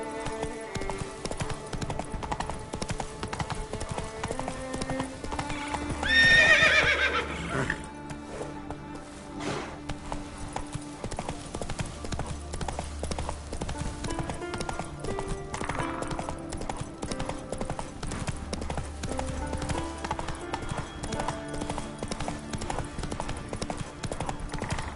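Hooves of Roach, the horse in The Witcher 3, clip-clop steadily at a trot over a constant bed of game music and ambience, with a brief neigh near the start.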